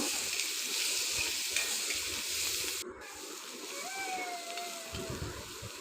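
Onions with salt and turmeric are stirred as they fry for a radish dish, a moderate sizzle broken by utensil scrapes, a brief drop in level, and a faint whistling tone partway through.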